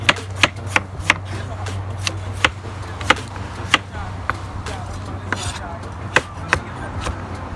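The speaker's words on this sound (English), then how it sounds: "So let's get it chopping." Steady knife chops through vegetables on a cutting board for soup, sharp close taps in an uneven rhythm over a low constant hum.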